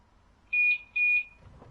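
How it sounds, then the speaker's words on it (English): Two-tone door-closing warning beeps from a train in Train Sim World 2 sound twice in quick succession, clear and moderately loud over a low background rumble. "There we go. Doors are closing."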